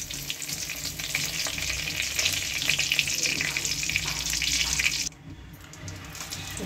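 Bay leaf and dried red chilli crackle in hot tempering oil, a bright continuous sizzle with fine spitting, then dropping abruptly to a quieter hiss partway through.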